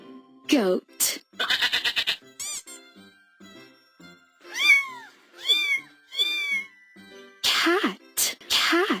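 A cat meows in several drawn-out, rising and falling calls, some in quick succession, alongside bleat-like animal cries.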